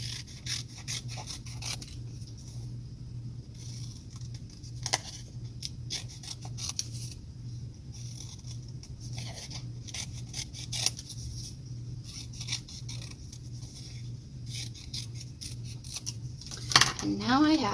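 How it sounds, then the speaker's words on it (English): Scissors snipping a crown shape out of folded paper for a first-grade art project, a steady run of small crisp cuts and paper rustles over a constant low hum, close by. "I'm going to leave it folded as I cut that shape out."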